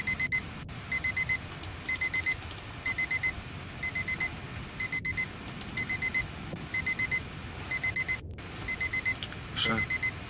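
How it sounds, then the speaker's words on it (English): An alarm clock in a video game rings in steady repeated bursts of electronic beeping throughout, loud and evenly spaced, with faint background noise between bursts. "Where's the alarm?"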